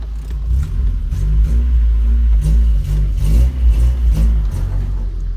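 An old car with a 1980s transmission drives on a test drive, its engine rumbling loudly and close with revving surges throughout, no talking.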